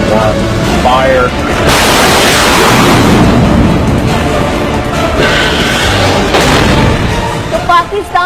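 Anti-tank missile launch: a dense, roaring blast that sustains loud and broad for several seconds after a brief lead-in, with a countdown voice just before and music or effects layered through.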